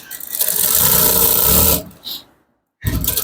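A sewing machine stitches Ankara fabric in a continuous close whirring run that slows and stops, followed by a brief mechanical clunk, a pause of silence, then the motor starting again.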